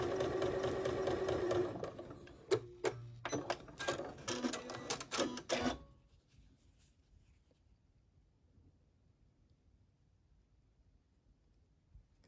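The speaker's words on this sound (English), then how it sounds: "stitch our 1/4 inch seam" A sewing machine stitches a quarter-inch seam on a quilted zipper pouch, first running steadily, then in several short stop-start bursts, before it goes quiet, close and clear.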